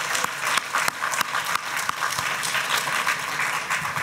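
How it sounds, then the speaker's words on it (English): Audience applause at a music event, a sustained crowd clapping at moderate volume with a few sharper individual claps standing out. "if you can give him a big round of applause"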